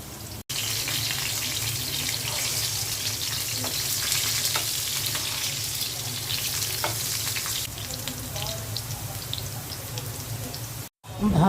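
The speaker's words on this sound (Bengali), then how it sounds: "আলুগুলো দিয়ে দিচ্ছি ভাজার জন্য।" Sliced potatoes frying in hot oil in a pan, a continuous loud sizzle with occasional stirring clinks, close up; khichuri with beef is cooking alongside.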